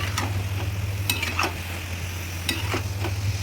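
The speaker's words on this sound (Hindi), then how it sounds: "अब सारी चीज़ों को अच्छे से मिक्स करते हुए चला लेते हैं।" A spoon scrapes and stirs butter chicken with a piece of butter in a hot pan, giving intermittent clinks and scrapes over a steady sizzle and a constant low hum, close and fairly loud, with no speech.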